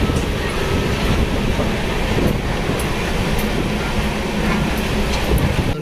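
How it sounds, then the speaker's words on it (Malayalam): A train rolls along the railway near Madgaon station in Goa, its loud, continuous rumble and rattle of wagons mixed with wind buffeting, steady throughout with no talk. "ട്രെയിൻ"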